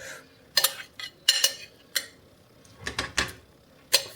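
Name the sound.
meatballs added into pot of chicken soup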